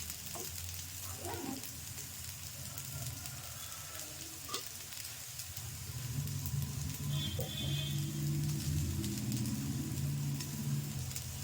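Vegetable adai cooks on a hot pan with a continuous close sizzle that grows louder and fuller partway through, with a few light scraping touches and no talk.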